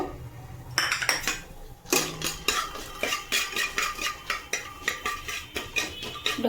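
Lentil dumplings (bori) frying in leftover fish-frying oil in a pan, with repeated metal utensil scrapes and clinks as they are stirred, close and rhythmic.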